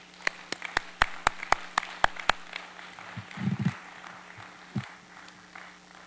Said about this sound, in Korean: 우리 최성모 집사님 나오실 때 우리 뜨거운 박수로 이 시간 맞이해 주시기를 바라겠습니다